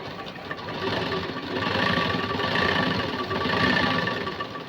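A sewing machine runs in steady even bursts while stitching lining cloth for a puff sleeve, a close mechanical whir that rises and dips with no talk.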